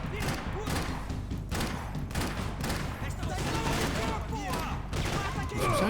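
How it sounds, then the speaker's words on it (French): Rapid bursts of gunfire crack through a Max Payne 3 firefight against Brazilian army soldiers, loud and dense across the scene with heavy thuds beneath, mixed with a voice speaking. "Vraiment là, le mec il tire 2 balles."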